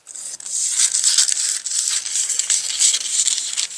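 Scissors cut along a line through a paper sewing pattern for a layered blouse, giving a steady, crisp papery rustle with slight flutters that runs close and unbroken for about four seconds, with no talking.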